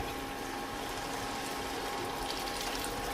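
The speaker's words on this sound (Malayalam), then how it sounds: "ഇനി അതിലേക്ക് ചൂടുവെള്ളം ഒഴിച്ചു കൊടുക്കണം." Boiled hot water pours into a pot of rice and chicken, a steady gushing, bubbling wash of liquid heard close and continuous throughout.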